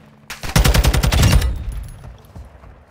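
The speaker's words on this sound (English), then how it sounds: "Wait, some guy shooting?" A rapid burst of automatic gunfire in a shooter video game, loud and close, about a dozen quick shots within a second, then a fading echo and low rumble.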